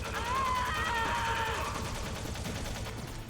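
Gunfire from the PS1 Metal Gear Solid video game in a VR training setting, a dense burst of rapid shots crackling over a busy game soundscape with whining tones early on, loud and continuous throughout.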